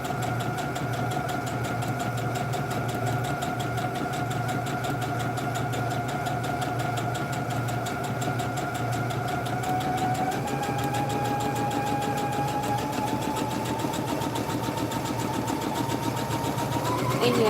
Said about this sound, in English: all you want to do is sew as close to the edge of the material as